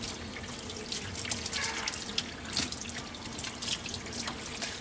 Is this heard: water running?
yes